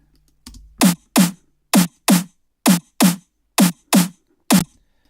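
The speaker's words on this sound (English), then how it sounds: "in the second 8 bars I have off snares" A dry electronic off-beat snare sample for big room music hits nine times in a quick, slightly uneven pattern, crisp and snappy with short decays, no other sound.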